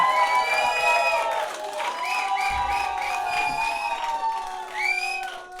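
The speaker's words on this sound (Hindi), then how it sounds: "start clapping" A stand-up comedy crowd applauds and cheers for the comedian Gaurav Aswal, with steady clapping under loud whoops and whistles that swell and fade across the clip.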